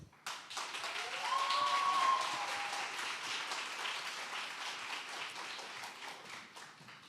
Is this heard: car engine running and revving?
no